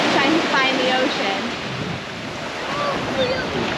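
Ocean waves washing onto a Turks and Caicos beach, a steady broad wash of surf with wind buffeting the microphone, continuous and fairly loud throughout.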